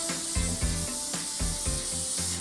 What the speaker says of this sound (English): we're going to give it a final spray.